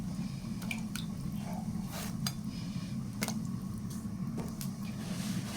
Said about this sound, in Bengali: বেগুনগুলো পিস পিস করে কেটে নেব।